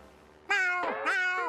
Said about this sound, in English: Are your snails still meowing?